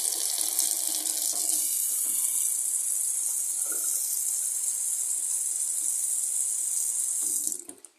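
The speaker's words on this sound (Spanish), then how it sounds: "Le dais al agua." Steady water running from a kitchen sink tap, a continuous hiss that holds evenly for several seconds and then cuts off near the end.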